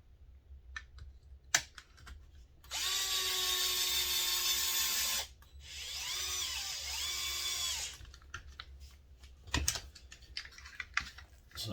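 Power driver running 3mm button head screws into an RC car radio tray brace, two whirring bursts of a few seconds each with pitch shifts as it loads up, surrounded by quiet clicks and handling taps.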